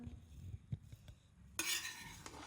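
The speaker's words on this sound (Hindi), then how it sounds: "थोड़ा सा मैं मिक्स करूँगी पहले इसको इस तरह" A spoon stirring Afghani chicken pulao in a pot before serving, soft scraping scoops of rice followed by a louder rustling scrape against the metal, close and alone.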